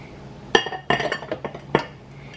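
Bamboo shoots drop into a pot of Lao chicken curry, bringing a few sharp clinks and knocks against the pot and utensils, close and distinct over a quiet kitchen background.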